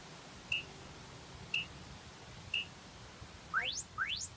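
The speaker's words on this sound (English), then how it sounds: "at the beep." Workout interval timer beeps: three short, evenly spaced electronic tones a second apart, then rising chirp sweeps, over quiet room hiss.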